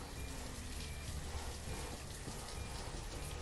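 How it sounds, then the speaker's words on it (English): Rain in the video game Banished falls as a steady, even hiss of rain on surfaces, a soft continuous wash with no voices. "It certainly rains a lot here."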